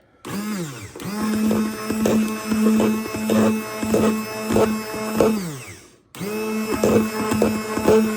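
A motor whirs loudly in pulsing bursts as a blender churns, stopping briefly near the end before starting up again.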